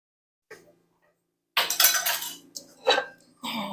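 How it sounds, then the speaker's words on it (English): A spatula scraping baked potato flesh out of the skins for twice-baked potatoes, giving a few short scraping bursts with a pause between them, close and fairly quiet. "I'll get a spatula here to pull all this out with"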